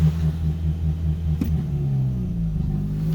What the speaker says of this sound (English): if I floor it, the gas pedal actually works a little bit now, but it limits at about 2400